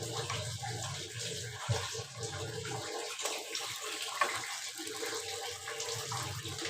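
Water runs from a household tap in a steady, continuous splashing stream that holds at an even level throughout, with no talking over it.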